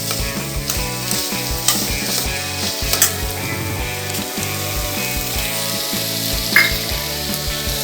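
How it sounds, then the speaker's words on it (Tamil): Chana dal fries in hot oil in a pan and is stirred for a South Indian snake gourd kootu, giving a steady close sizzle with repeated scraping, clinking stirs throughout and no talk. "நம்ம இப்போ வந்து கடலைப்பருப்பை போட்டுடலாம் போட்டு ஒரு கிண்டு கிண்டிடுவோம்"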